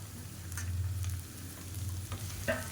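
Chopped green beans and onions frying over a medium flame in a pan, a low steady sizzle with occasional soft scrapes of stirring, close and alone without talk.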